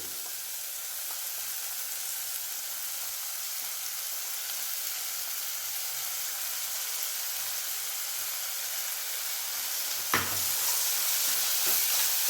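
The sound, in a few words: sautéing ginger garlic paste for mixed vegetable sabji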